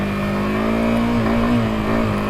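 A Yamaha R15M motorcycle on beach sand revs loudly and close, its engine note holding a steady buzzing drone with slight rises in pitch.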